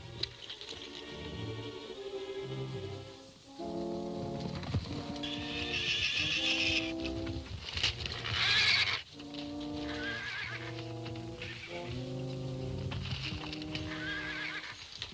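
Horses neigh and whinny in a 1937 western film scene with a pinto stallion and his colt, loud repeated calls with hoof clip-clop between them.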